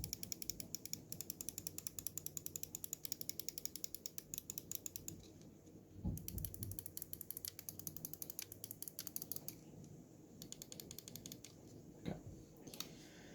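Main switches of a G-Wolves HTX Ace gaming mouse click in rapid, even series, crisp close-up taps repeating steadily with brief pauses between runs, heard alone in a quiet room.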